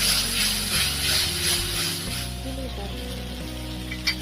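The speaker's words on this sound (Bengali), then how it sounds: "এক চা চামচ ধনে গুঁড়ো দিয়ে ভালো করে কষাবো" Spices with coriander powder sizzle in hot oil in a pan for a crab curry, a steady frying hiss under low humming background tones, fading slightly toward the end.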